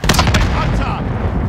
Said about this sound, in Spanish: ¡Buen disparo, Garrick!